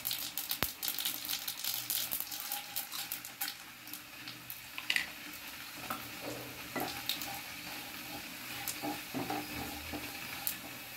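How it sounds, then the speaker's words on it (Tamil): Mustard seeds, cumin, urad dal, chana dal and dried chilies frying in hot oil in a pan, a soft sizzling crackle with scattered pops and occasional clinks of a stirring spoon, close and fairly quiet. "எண்ணெய் நல்லா சூடு ஏறிடுச்சு pan ல கொஞ்சம் கடுகு சீரகம் உளுத்தம் பருப்பு காஞ்ச மிளகாய் கடலை பருப்பு"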